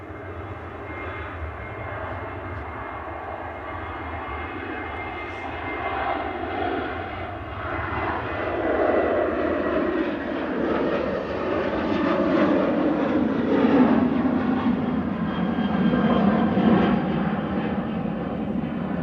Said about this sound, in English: Some 37800 of KLM there, departing back to Amsterdam